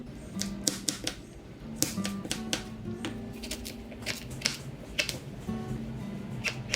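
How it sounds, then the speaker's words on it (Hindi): Knife chopping vegetables such as onion, carrot, broccoli and cabbage on a board in a home kitchen, giving a run of quick, sharp, irregular taps over a low background hum. "सबसे पहले मैं यहाँ पे सब्जियाँ, जो ये 3 सब्जी है मेरे पास, थोड़ा मोड़ा और भी सब्जी है, वो सारा काट लूँगी"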